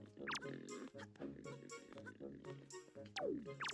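Cartoonish pig oinks and squeals from a pig in the video game Zelda The Wind Waker, repeating quickly over game music with a couple of rising squeals.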